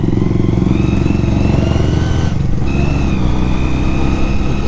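Honda CD 200 Roadmaster classic motorcycle being ridden, its engine giving a loud, close, rapid low-pitched throb with a steady pulsing beat, a brief dip as the throttle eases, then an even pull again.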